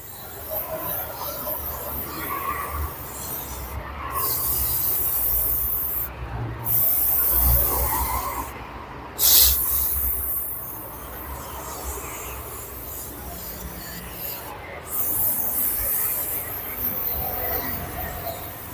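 WD-40 is sprayed across a car engine in a series of hissing bursts with short pauses between them, close and steady against a background hum.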